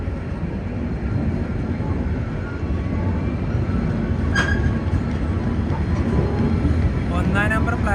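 The Vivek Express rolls into Lumding Junction station with a continuous heavy rumble of wheels and carriages, loud and close, holding steady throughout with a few brief higher squeaks.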